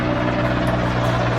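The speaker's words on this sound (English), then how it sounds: "we have a helicopter." Helicopter flying overhead, a loud steady rotor drone with a constant low throb, continuous and close, with no voices.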